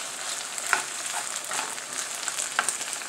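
Succotash frying in a hot pan, a steady close crackling sizzle with occasional sharper pops and faint stirring, continuous and fairly loud throughout.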